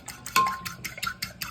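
A utensil stirs a mixture with egg yolk for southern style pork chops in a bowl, making rapid, close scraping and clinking strokes in a quick irregular rhythm, with one brighter ring of metal.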